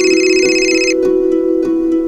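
A phone ringtone plays loudly and close, a bright melodic tone that cuts off, followed by a few short repeating electronic pulses.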